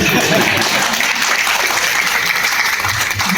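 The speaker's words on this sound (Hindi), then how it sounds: "देखो आखिरी ताली बजी" A live audience gives loud, steady applause at a comedy poetry performance by a humorist; a thick wash of clapping runs throughout with a faint voice beneath it.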